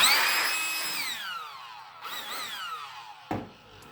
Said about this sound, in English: I use a little handheld blower like this